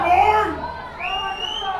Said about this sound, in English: And the Santa Monica crowd really getting into it late in this 4th quarter.